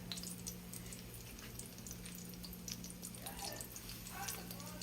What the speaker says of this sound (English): We just go ahead and fry them like that.